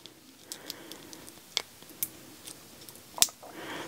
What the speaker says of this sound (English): I'm going to cut it off just to see what's going on here.